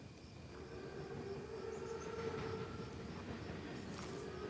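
An armored train rolls past in the WWII shooter Call of Duty WWII, a steady low rumble of wheels and engine with faint whistle-like tones above, holding at moderate level throughout.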